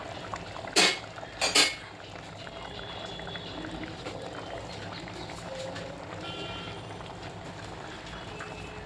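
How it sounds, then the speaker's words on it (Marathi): Two sharp sizzling hisses burst out in quick succession as hot tempering oil is poured onto cooked dal, then a quieter crackle lingers over kitchen background. "त्याच्यावर आपण मस्तपैकी तडका घालूया"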